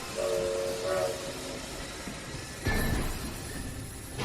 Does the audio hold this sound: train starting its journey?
yes